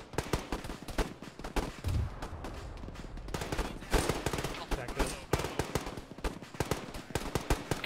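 Gunfire in Arma during a ShackTac squad operation: dense, irregular bursts of rifle and machine-gun shots, some close and sharp, others more distant, continuing throughout with voices mixed in.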